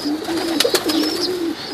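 Young Tippler pigeons coo softly in short, close murmuring notes, with a couple of brief wing flutters or taps partway through and no talking.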